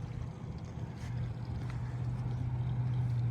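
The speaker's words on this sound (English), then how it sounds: "This, if you haven't seen it yet, is my Explorer boat." The motor of a Boston Whaler Montauk 170 boat hums low and steady on the water, its drone growing slightly louder, with no voices.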